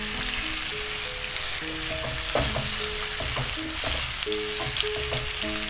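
Onion paste frying in a pan for a thick gravy, with chopped garlic nearby: a soft, steady sizzle broken by scraping and stirring knocks from a utensil, fairly quiet and without talk.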